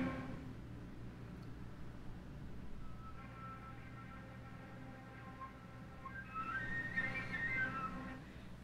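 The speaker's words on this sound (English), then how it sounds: "there's a bunch of little whistle tones in there" Faint, thin high whistling tones from a flute flicker in and out over a low steady hum, growing a bit busier and wavering toward the end.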